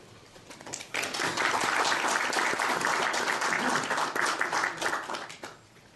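An audience breaks into sustained applause welcoming Mayor Thomas Richards of Rochester at a public forum on local fiscal challenges and New York's tax cap; the clapping is loud and steady for about five seconds before fading.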